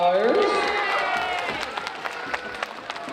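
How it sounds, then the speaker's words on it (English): A school crowd of children applauds at a Red Ribbon Week kickoff event in an elementary school, a dense wash of clapping and cheers that thins into scattered claps. "Everybody give a big round of applause to all of our hamster ballers."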